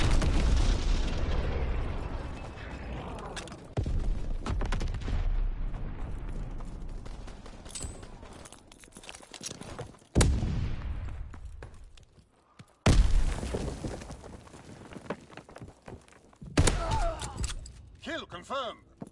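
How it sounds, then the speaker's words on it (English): Fritz X bombs explode in the World War II shooter Call of Duty WW2, heavy booms landing several seconds apart amid rumbling battle noise, with voices talking throughout. "Fritz X bomb mission underway"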